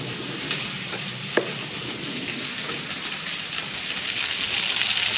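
Steady, dense sizzling and crackling of butter frying with a seared steak in a hot pan, with a few sharp pops rising above the hiss and no voices.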